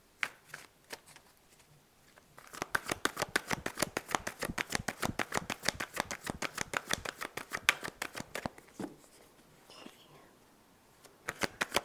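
Tarot cards riffled and shuffled in a rapid, steady run of crisp flutters, close and fairly loud, with softer handling before and after the main burst and a faint voice near the end.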